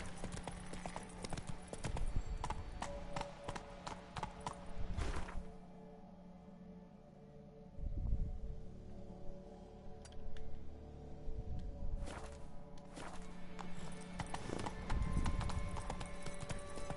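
Hooves of the horse Roach clip-clop at a gallop in the Witcher 3 game world, a loud rhythmic pounding that pauses briefly mid-way, with faint snorts and ambient game sounds around it.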